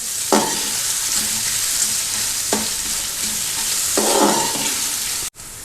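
Carrots stir-fry in a pan for chicken spaghetti, a constant loud sizzle broken by three clanking spatula scrapes, close up with no voices, ending in a brief cut.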